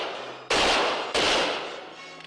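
A volley of musket or rifle shots fired on command in a 1950s frontier drama: two loud, close bursts about half a second apart, each with a long rolling decay.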